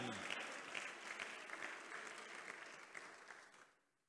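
Applause from a church congregation during a Spanish-language worship service in Houston, Texas, a steady dense clapping that runs for about three and a half seconds before fading out.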